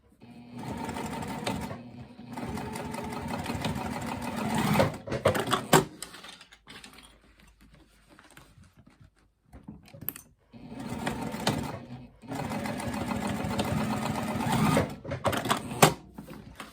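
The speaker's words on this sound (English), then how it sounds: "you're going to push your corners together and sew those edges up" A sewing machine stitches the corner edges of a fabric pencil pouch in two long, loud runs of rapid whirring, separated by a quiet pause with a few brief clicks.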